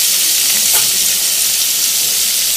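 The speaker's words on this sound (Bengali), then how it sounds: "এখানে কাঁকড়াগুলো বাজতে বসিয়েছি। আগে এগুলোকে একটু মুচমুচে করে ভেজে নেব" Crabs fry in hot oil in a pan until crisp, giving a loud, continuous close-up sizzle and hiss with a brief stir partway through.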